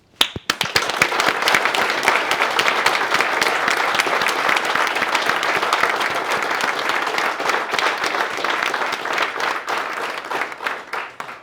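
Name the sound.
applause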